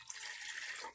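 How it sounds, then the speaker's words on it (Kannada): Water pours into a cooking pot set on a gas stove to make a ginger and pepper kashaya, a steady close splashing rush lasting about a second with no talking. "ನೀರು ಹಾಕ್ಕೊಳ್ಳಿ."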